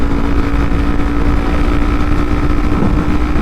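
Kawasaki Ninja 400 motorcycle cruising at freeway speed, a steady loud engine hum blended with heavy wind rush, continuous and close.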